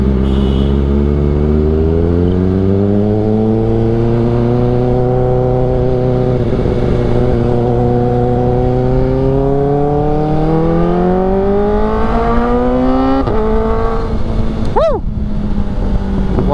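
A Toyota car engine on Marcos Highway revs up through rising gears, a loud, close, continuous drone that climbs in pitch, drops at each shift, and ends with a sharp quick blip, with no talk.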